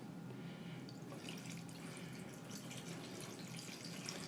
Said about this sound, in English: So we're going to add some normal tap water